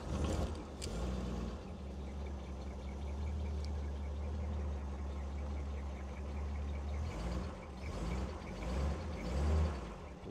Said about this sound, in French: On entend bien le 6 cylindres.